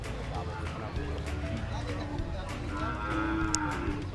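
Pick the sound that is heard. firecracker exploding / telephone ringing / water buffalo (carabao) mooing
water buffalo (carabao) mooing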